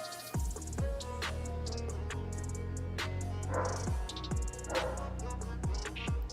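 A pet dog barks repeatedly indoors during a live trading stream, sharp separate barks recurring every second or so over a steady background hum.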